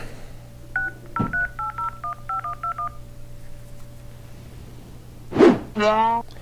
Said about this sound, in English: Gato, get our lawyer on the phone.